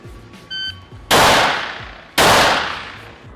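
Two loud pistol shots on a PPC shooting course, about a second apart, fired after a short electronic beep from a shot timer; each report is sharp and close with a decaying tail.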